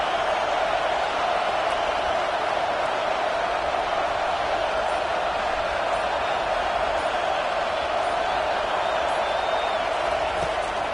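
A college football stadium crowd in a video game roars as a dense, constant wash of noise with a steady hum-like drone, loud and unbroken, no distinct cheers or voices standing out.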